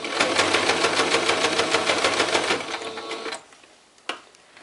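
A sewing machine stitches a fabric pouch with a fast, loud, even mechanical whir. It stops abruptly after about three seconds, and a single sharp click follows near the end.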